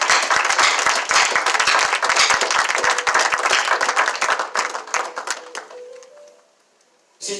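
A church congregation bursts into loud, dense applause to acclaim the Lord. The clapping is sustained, then thins into scattered claps and fades to near quiet before a brief final burst.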